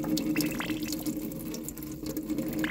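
Water rinses mealybugs off a plant in a steady, close stream of running and splashing with light drips, with no talk over it.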